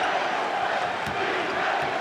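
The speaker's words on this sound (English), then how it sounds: "Chant of defense from this capacity crowd" A capacity crowd at the 1994 Knicks versus Rockets Finals Game 5 in a basketball arena keeps up a loud, steady chant of defense, a dense roar of massed voices that fills the space without a break.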